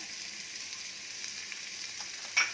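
Finely chopped small onion frying in a pan with crackled mustard seeds gives a soft, even hiss throughout, ending with a short, sharper scrape or splatter near the close.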